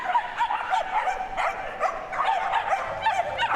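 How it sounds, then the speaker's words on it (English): Several excited canicross dogs at a Crufts display bark and yip in quick, overlapping bursts, close and lively, with a continuous busy chorus and no clear talk. "As you can see, the dogs are very excited."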